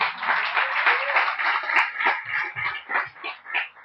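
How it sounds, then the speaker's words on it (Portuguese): A church congregation claps together. The applause is fairly close and comes in uneven pulses that swell and fade, with a short sharp knock partway through. "Você pode aplaudir ao Senhor para derrubar isso?"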